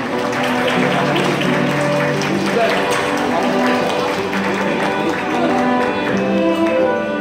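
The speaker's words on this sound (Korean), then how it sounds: "여러분 아끼고지 마서 박수 한번 부탁드리겠습니다." Wedding guests in a hall applaud the couple's parents, steady clapping running throughout under loud piano-trio waltz music, with a crowd murmur mixed in.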